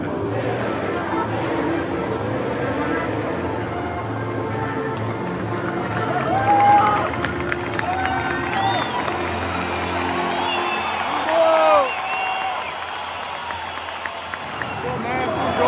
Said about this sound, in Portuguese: como é o hino aqui no estádio do Palmeiras